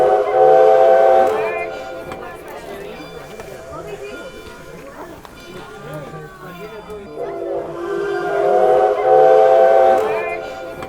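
Steam locomotive 3716 chugging and whistling on a rail ride, with loud whistle blasts at the start and end and rhythmic chuffing between them, people talking nearby.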